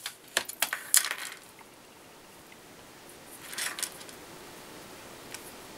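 Scissors make a few quick, quiet snips trimming a small amount of material, a short cluster of cuts followed by a pause and then another brief couple of snips in a quiet room.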